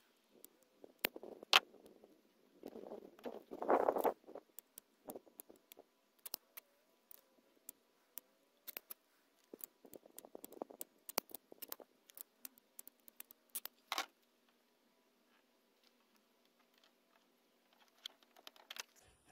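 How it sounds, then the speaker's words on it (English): Scissors snipping small squares of green double-sided tape, giving sparse, quiet, sharp clicks and short snipping bursts in irregular clusters with long silent gaps, close to the listener. "All I'm using here is just some green double stick tape. And you don't need a lot of it, just a little. So I'm just going to cut a couple little squares."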